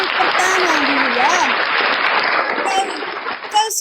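Audience applause at an Indonesian entertainment show, a dense, continuous clapping that fills the clip, with voices shouting over it before it thins near the end.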